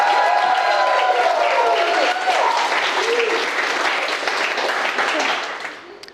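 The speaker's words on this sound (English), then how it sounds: "I want to just start by doing a big round of applause for Viv" Wedding guests give a big round of applause for the bride during the speeches, loud sustained clapping and crowd noise with voices mixed in, tapering off near the end.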